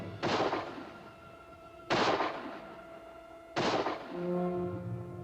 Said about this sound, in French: Les coups de feu viennent de là.